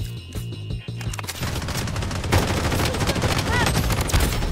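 MP submachine gun fire in the shooter game Blood Strike, a dense stream of rapid shots that runs almost without pause across the whole stretch after a short quieter opening, loud and close.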